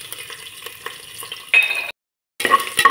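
Steady crackling sizzle of chopped garlic frying in hot oil, with soft stirring scrapes, a brief cut to silence, then louder sizzling resumes.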